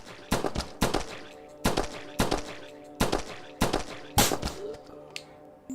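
Rapid bursts of gunfire in the video game Outbreak: The Nightmare Chronicles, about six sharp volleys spaced roughly evenly, each a cluster of crackling shots like firecrackers, loud and close.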